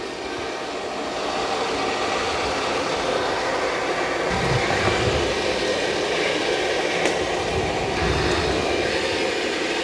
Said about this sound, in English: It's about 65 dB mopping and vacuuming.